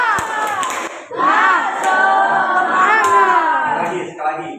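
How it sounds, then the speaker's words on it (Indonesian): A class of students chants the 'tepuk semangat' spirit clap call together at a school lesson: loud, sustained group voices with a few sharp clap hits scattered through about four seconds. "Tepuk semangat"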